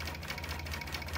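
A long-arm quilting machine bastes a quilt with a steady, rapid mechanical hum and fine stitching chatter, a continuous moderate drone up close with no voices.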